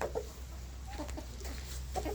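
Backyard hens clucking softly while pecking at a bird seed and hen feed stick: a few quiet, short clucks and murmurs close by over a low background hum.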